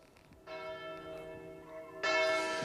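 Bells of the church in the centre of Dueville ring at noon in a resonant, sustained peal, a second louder strike joining partway through, with no talk over them.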